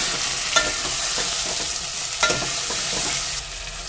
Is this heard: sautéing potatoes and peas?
yes